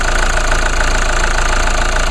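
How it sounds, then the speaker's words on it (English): A GM-built, Isuzu-designed engine rated at 151 horsepower and 264 lb-ft of torque runs steadily up close, a loud, even mechanical drone with a faint rhythmic knock and no talking. "So this engine here, it puts out 151 horsepower and 264 foot-pounds of torque."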